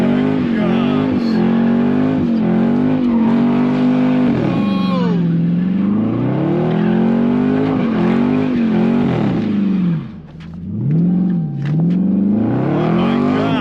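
A Dodge Charger Scat Pack with the 392 engine accelerates hard, its deep V8 roar rising and falling through repeated revs and gear changes from inside the car. Voices talk over the engine at times.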